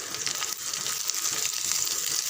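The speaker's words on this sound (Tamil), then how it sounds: "வெங்காயம் பாதி அளவுக்கு வதங்கினா போதும், ரொம்ப செவக்கணுன்றதில்ல." Onions frying in a pan for a sambar dish make a continuous, fairly quiet crackling sizzle that holds steady throughout, with no voices.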